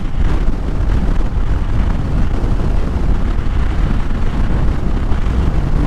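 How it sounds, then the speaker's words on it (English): Strong, steady wind buffets the microphone outdoors during a ride, a continuous low roar with rough gusty surges throughout and no voices. "Feels like the wind's just pushing right into you."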